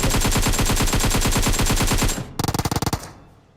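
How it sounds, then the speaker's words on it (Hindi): Rapid automatic gunfire in PUBG Mobile bursts loudly in a fast, even rhythm, pauses briefly, then a shorter burst follows and fades, with a synthetic game-like quality. "इसी घर से गोलियां चल रही थी बिल्कुल"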